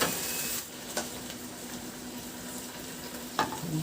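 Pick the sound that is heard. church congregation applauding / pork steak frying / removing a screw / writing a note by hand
pork steak frying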